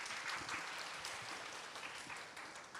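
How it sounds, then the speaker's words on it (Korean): Steady, dense applause for a professor at an online radiology alumni webinar, a continuous wash of many hands clapping at a fairly faint, even level throughout. "큰 박수 부탁드리겠습니다"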